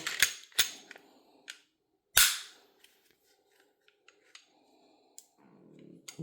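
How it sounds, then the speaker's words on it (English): A metal pistol slide being put back onto the frame during reassembly, with sharp clicks and clacks, a louder snap in the middle, and scattered small metallic taps between them, close by with no talk. "Now we're just going to assemble the pistol like we normally would. Slide back on."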